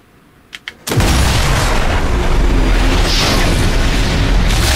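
A sniper rifle fires in Sniper Elite 4: two soft clicks, then a sudden loud booming blast that rolls into a sustained roaring rumble for several seconds.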